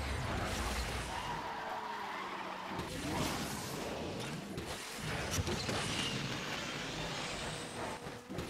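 A Ferrari in the Asphalt 9 racing game buzzes along with a continuous engine roar, tire skidding and whooshes layered densely throughout, loud and unbroken.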